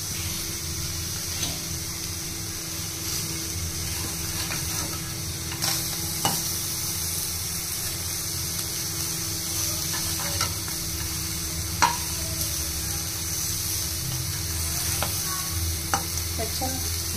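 Prawns are stirred in a hot pan as their water cooks off, making a loud, continuous sizzle broken by occasional sharp scrapes and clicks of the stirring utensil.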